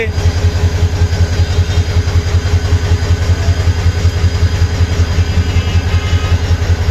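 A diesel engine idles at Sreepur railway station in Bangladesh, a loud, steady low throb with a regular pulsing rhythm and a busy station background.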